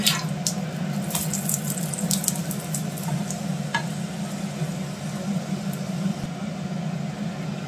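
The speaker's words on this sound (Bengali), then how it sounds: "এইভাবে পরোটাগুলোকে আমি সব ভেজে দিচ্ছি।" Radish-stuffed parathas frying in oil in a pan, a steady loud sizzle throughout with a few sharper crackles and pops near the start.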